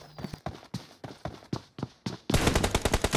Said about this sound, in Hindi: दोनों प्लेयर्स ने फायर करना चालू कर दिया है